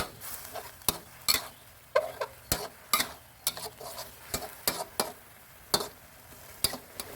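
Beef with dried chilies being stir-fried in a pan, a spatula scraping and clanking in irregular strokes over a steady sizzle, close and fairly loud with no voices.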